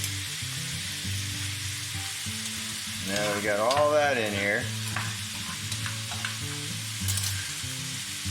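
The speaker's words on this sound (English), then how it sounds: "Ooh, some more sizzling going on." Butterflied shrimp for shrimp scampi sizzle steadily in a hot frying pan, a constant hissing crackle, while a person briefly speaks over it.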